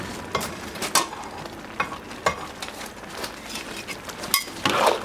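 Lean pork being stirred into a large pot of congee, the spoon scraping and knocking against the pot in irregular strokes over a soft simmering sizzle, close and clear.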